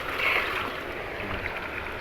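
Spring water pours strongly from a pipe with a steady, full rushing splash that stays even and close throughout.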